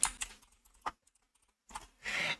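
A folder name is typed on a computer keyboard, with a few close, sharp key clicks in short bursts separated by pauses, ending in a quick cluster of keystrokes.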